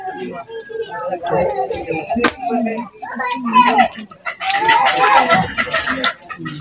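Chickens cluck and a rooster crows nearby, mixed with people talking and children's voices over the birds.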